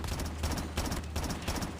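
Burst-fire gun in Call of Duty, rapid repeated shots in short bursts roughly every third of a second, steady and fairly loud across the whole moment with no talk.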